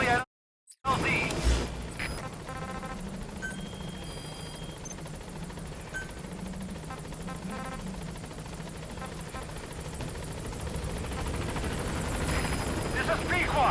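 Helicopter in the Metal Gear Solid V video game approaching a landing zone, a steady low rotor drone that holds throughout and swells slightly toward the end, with game radio voices talking over it.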